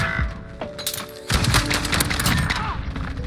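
A grenade explosion in a shooter video game, a burst of loud crashing blasts and crackling debris erupting after a short lull, dense and close, rolling on for about two seconds.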